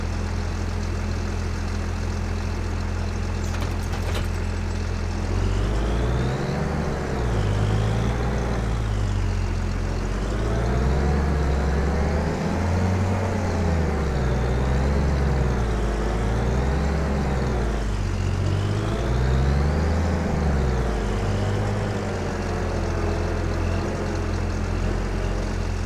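A combine harvester engine drones continuously in the Farming Simulator 25 video game, a steady mechanical hum whose pitch swells and dips repeatedly as the machine drives, with no talk over it.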